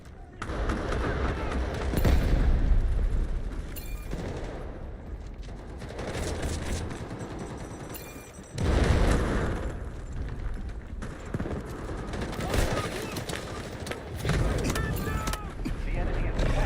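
Grenade explosions and gunfire in the shooter game Delta Force, a continuous dense roar of blasts and shooting with louder bursts rising throughout, and voices talking under the battle.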